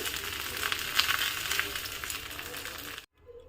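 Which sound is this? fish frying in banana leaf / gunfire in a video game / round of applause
fish frying in banana leaf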